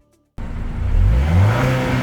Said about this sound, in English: Does the exhaust sound as good as it looks?